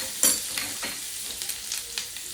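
Bread sizzles in a pan with melted butter and garlic, a close, steady crackle broken by a few scraping stirs, with no voices.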